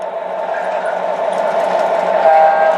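Two MTH Proto 3 O gauge model diesel locomotives run on one small loop under automatic DCC control, giving a steady, close motor hum and rolling drone with faint wheel noise throughout.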